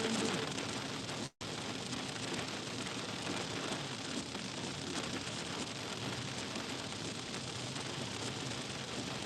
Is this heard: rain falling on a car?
yes